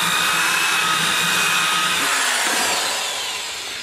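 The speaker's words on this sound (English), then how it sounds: "all I do is take a hand drill with one of my carbide cylinder burrs" A high-pitched hand drill with a carbide cylinder burr grinds continuously against aluminum, a steady whining buzz close by that eases off slightly toward the end.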